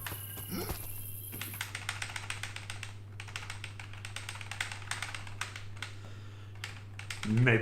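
Rapid typing on a computer keyboard during a speedrun session, a steady stream of close, crisp key clicks and taps, with a constant low electrical hum underneath and a brief louder knock near the end.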